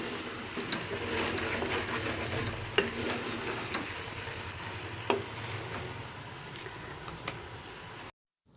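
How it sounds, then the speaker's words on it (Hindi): Chana masala with garam masala is stirred in a hot pan, a continuous sizzling fry broken by sharp scraping knocks of the spoon against the pan, close and with no voices. "इसको भी अच्छे से मिक्स कर लेते हैं"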